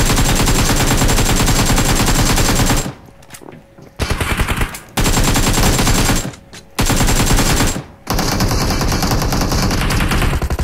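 Automatic gunfire in PUBG Mobile, loud, rapid sustained bursts of shots lasting a few seconds each, separated by brief pauses filled with quieter shuffling and footsteps.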